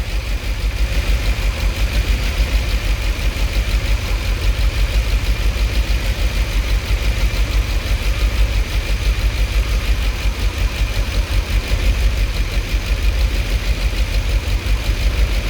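A 2008 BMW S63 V8 with about 150,000 km idles steadily, held close and loud, running rough with some injectors shut off one cylinder at a time; a low, even rumble continues throughout with no talking.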